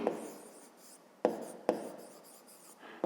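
A pen writes by hand on paper during a fifth-grade math exercise, soft scratchy strokes broken by a few sharp taps, close and quiet with no voices.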